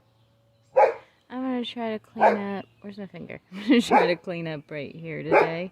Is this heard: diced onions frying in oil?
no